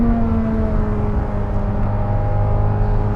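A 1,064 hp Corvette ZR1 runs fast through right-hand corners at Circuit of the Americas, its engine a steady, loud droning hum heard from inside the car, continuous with no talking.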